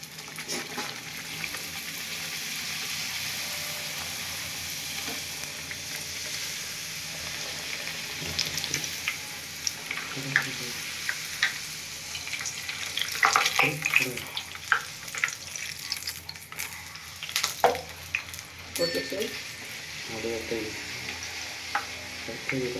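Soft wheat poori deep-frying in hot oil gives a steady, close hiss of sizzling that runs throughout, with sharper bubbling bursts and light utensil clatter in the second half.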